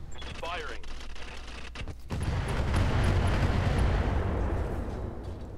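Mech weapons fire in the Roguetech battle game, starting with scattered sharp shots and a rising whine, then swelling at about two seconds into a dense, sustained roar of gunfire and explosions that holds loud to the end.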